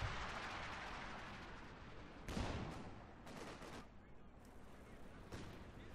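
Mortar rounds and gunfire from a Company of Heroes 2 battle, with booming impacts, a loud blast near the middle and scattered shots under a caster's voice.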